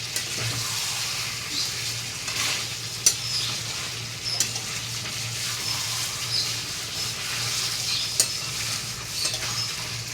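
Chicken curry with potatoes is stirred and sautéed in a pan as the oil separates: a constant crackling sizzle with repeated scraping strokes of a spoon and a few sharp knocks against the pan.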